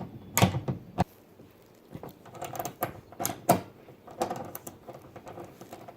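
A socket is turned by hand to back a bolt out of the back-door tail light on a 1998-2006 Toyota Sienna, giving a few sharp clicks and scattered faint creaks and rattles, close by with no talk.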